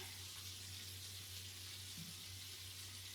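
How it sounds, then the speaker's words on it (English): Shrimp deep frying in olive oil, a steady, faint broadband sizzle with constant crackle running throughout, alone with no voices, under a low hum. "So it's deep fried in olive oil."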